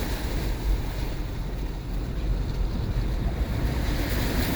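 Subaru pushing through deep water in a flooded lake in West Cajon Valley after a Southern California blizzard, a steady loud rushing and sloshing wash with rumble and wind noise throughout, no voices.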